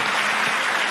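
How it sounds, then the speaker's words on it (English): A conference audience at a science event bursts into loud, dense clapping, a brief and uniform wave of many hands close by, with no one speaking over it. "Can I have a big applause?"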